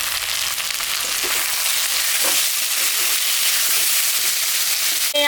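Onions sizzle in hot oil for a fish curry, a loud, dense, continuous crackling fry close to the microphone, with a brief stirring scrape near the end and no talking.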